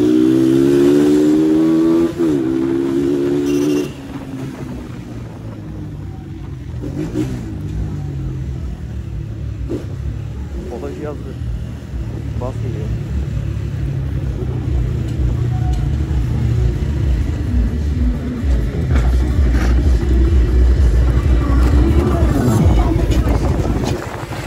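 A Kuba CG Gold motorcycle engine is ridden hard, its note climbing and dropping through repeated revs, close and loud under heavy wind buffeting, with a brief voice near the start.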